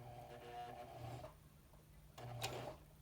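Sewing machine stitching fabric for a twisted headband, running in two steady bursts with a brief pause between, a mechanical whir close by with no talk.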